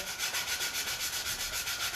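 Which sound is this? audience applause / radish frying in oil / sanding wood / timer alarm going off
sanding wood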